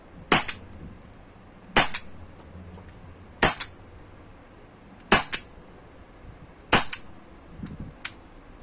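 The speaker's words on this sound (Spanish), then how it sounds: "procedemos a hacer unos disparos. Como siempre, vamos a hacer unos disparos aquí" A Glock 17 Gen5 CO2 less-lethal pistol fires six sharp, cracking shots spaced about one and a half seconds apart, close and loud, with no talking between them.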